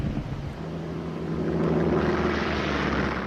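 American Devastator torpedo bombers flying low over Japanese warships in a World War II attack, heard as a steady droning propeller hum that swells slightly as the planes pass.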